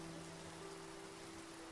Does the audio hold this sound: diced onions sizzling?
no